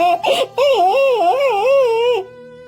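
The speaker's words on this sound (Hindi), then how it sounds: "अरे ये रोने की आवाज किसकी है?" A boy sitting under a tree cries in a wavering, wailing sob, rising and falling in pitch for about two seconds after a short catch of breath, close and loud.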